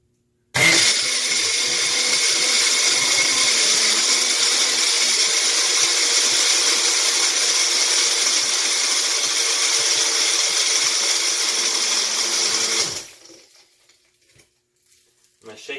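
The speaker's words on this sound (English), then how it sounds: "Throw it right into the blender" An electric blender whirs loudly for about twelve seconds while blending ice for a caramel ice drink, a steady high motor whine with grinding, then it stops abruptly, leaving near silence.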